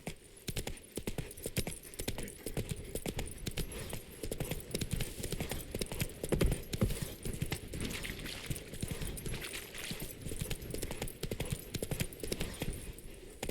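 Roach, Geralt's horse in the video game The Witcher 3, gallops in a steady, rapid clip-clop of hooves that carries on without pause, fairly close and at moderate volume.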